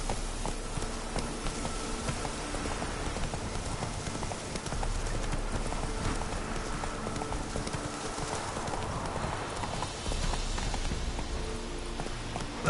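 Roach, the horse in The Witcher 3: Wild Hunt, runs with a steady, continuous clip-clop of hooves under dense game ambience and faint buzzing, without a break for the full stretch.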